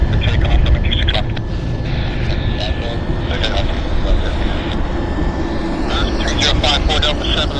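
A Pacific Coastal airliner departs from a runway at Vancouver airport, its engine roar a steady rumble throughout, with faint radio chatter and voices beneath.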